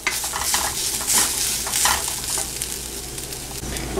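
Chili powder and coconut mixture fries in a pan for Kerala chicken curry, with a continuous sizzle and brisk spoon stirring scrapes, close and fairly loud, without any voice.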